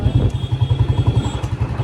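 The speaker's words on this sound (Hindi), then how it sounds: "पहले तो बाइक लगाते हैं पार्किंग में।" A motorcycle engine idles close by with a steady low rhythmic thump while the bike is parked in a lot in Nainital, clattering faintly in the background.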